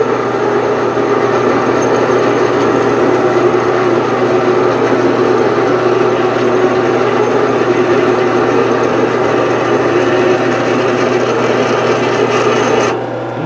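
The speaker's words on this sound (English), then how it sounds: "That's how you know you're drilling a good," A drill grinds steadily through metal while making a custom shotgun choke, with a loud, continuous rasping whine, then cuts off abruptly at the end.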